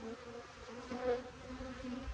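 Honey bees buzz at an open hive during a check for queens, a steady low drone that swells briefly near the middle and carries on alone without talk.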